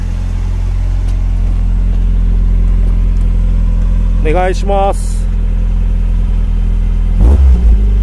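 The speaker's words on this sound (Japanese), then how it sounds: "それではね、排気音もちょっと聞いてみましょう" A Toyota Corolla 70 series classic car idles with a steady, close exhaust rumble. A voice makes a brief request midway, and the engine revs briefly near the end.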